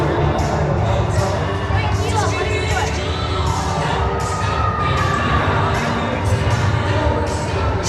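A crowd cheers loudly and without pause at a youth under-10 ice hockey game between the Woodbury Predators and the Spartacats, with shouting children and spectator chatter filling the rink.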